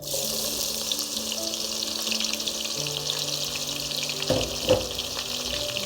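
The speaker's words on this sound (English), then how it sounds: "We are going to start off frying our onions." Onions sizzle steadily in hot oil, a continuous close crackling hiss with a couple of brief clatters near the end.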